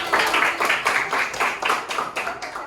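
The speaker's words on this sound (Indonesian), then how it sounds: "Oke, tepuk tangan buat kita semuanya." Children clapping together in a classroom, a dense burst of many small hands applauding steadily and close by, with no talk over it.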